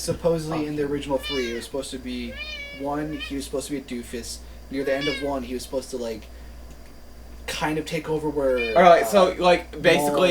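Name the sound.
pet cat meowing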